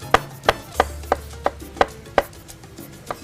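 A knife slices through portobello mushrooms on a cutting board in nine sharp, evenly spaced chops, close and clear. No voices.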